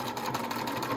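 A sewing machine runs steadily at close range, stitching the sleeve of a McCall's 8358 wrap dress in a continuous mechanical whir with no pauses.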